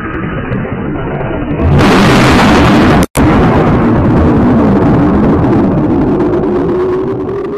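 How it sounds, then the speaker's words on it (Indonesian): A massive, sustained roar of the Krakatoa volcanic eruption that suddenly intensifies into a harsh, saturated blast, with a brief cut before the rumbling continues loudly. "Itulah suara ledakan Gunung Krakatau yang terjadi pada tanggal 27 Agustus"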